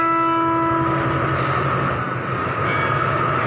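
A loud, sustained train horn blares over the heavy rumble of a departing Thai express train, the horn tone steady before fading into rolling wheel noise.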